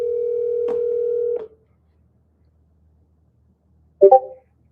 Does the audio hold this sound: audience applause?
no